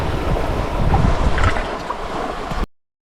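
A sailboat under spinnaker running on open water, with loud, continuous wind buffeting and the rush of water along the hull, up close until the sound cuts off abruptly.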